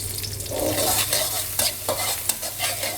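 Crushed Thai chili and garlic fry in vegetable oil in a wok over medium heat, a steady close sizzle broken by repeated scraping stirs and clatters of the utensil against the pan.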